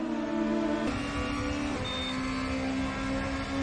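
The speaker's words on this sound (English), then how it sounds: "That beep signals DRS is enabled" A short electronic beep signals DRS enabled in the RaceRoom DTM 2020 racing game at Salzburgring, sounding briefly over a steady, loud car engine drone.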